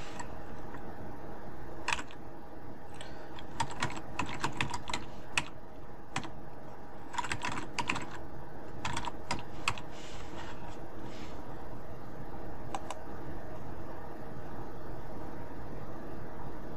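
Keystrokes on a computer keyboard as a root password is entered during a CentOS 8 installation, irregular bursts of clicky taps with pauses between, close and fairly clear over a steady background hum.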